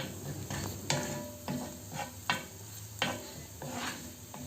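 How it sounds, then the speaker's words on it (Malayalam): Sautéed onions with turmeric powder are stirred in a pan during the making of kanda poha: a soft, steady sizzle marked by about six sharp spoon scrapes and taps against the pan, close and quiet, with no speech. "പൊടിയുടെ പച്ചമണം മാറുന്നത് വരെ നമുക്കിതൊന്ന് ഇളക്കി കൊടുക്കാം."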